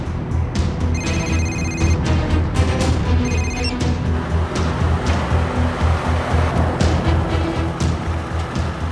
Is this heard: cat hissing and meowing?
no